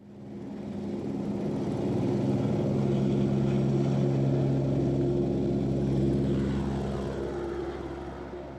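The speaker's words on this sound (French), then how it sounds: "cet hélicoptère, de type écureuil, de 700 chevaux, est une aide précieuse pour ce chantier" Écureuil helicopter with a 700-horsepower engine flying over a difficult cliffside worksite near Dinard, a steady loud rotor and turbine drone that swells and holds for several seconds before easing slightly.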